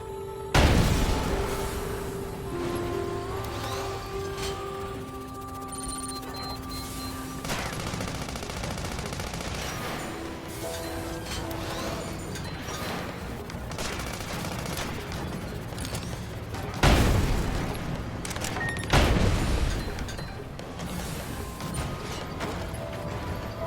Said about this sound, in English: The tank gun should do the trick.